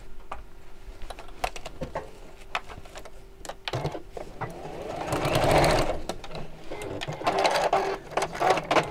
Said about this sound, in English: I'm just going to sew across the ends of those to hold them in place